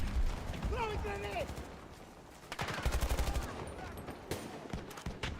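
Gunfire in the video game Battlefield: a few scattered shots and a short burst of rapid fire, moderately loud, with a tonal whistling sound early on and game noise throughout.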